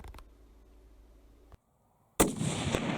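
A hunting rifle shot fired at a buck, heard as a single sharp loud report after a near-silent pause, followed by a roaring rush of noise and echo.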